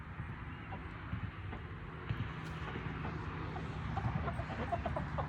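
Chickens in a fenced backyard pen cluck softly and intermittently in the distance over a constant outdoor background hiss, with no one speaking.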